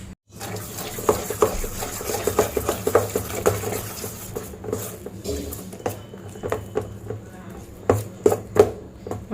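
Gram flour batter is stirred with water in a bowl, giving repeated soft taps and scrapes in an uneven rhythm, with faint clinks of utensil against the vessel.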